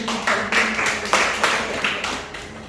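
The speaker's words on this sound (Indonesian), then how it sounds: "Beri tepuk tangan untuk Tuhan." Audience applause at a church gathering, a short burst of many hands clapping together, steady and fairly close, rising in waves before tapering off.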